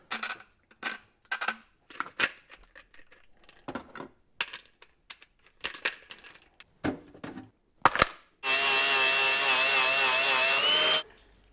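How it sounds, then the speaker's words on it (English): An angle grinder runs in one loud continuous burst of about three seconds, grinding off a stud on a Honda Civic, after a stretch of scattered metallic clicks and knocks close by. "I'm going to grind it off."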